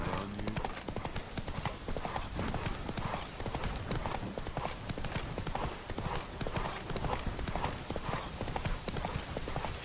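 Roach the horse galloping in The Witcher 3, a fast, dense drumming of hooves pounding without pause, close and loud, with game sounds mixed underneath.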